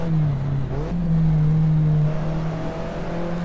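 A car engine in the Assetto Corsa racing game pulls from low revs in third gear, a loud, close, steady drone that holds at one pitch before climbing slowly and evenly.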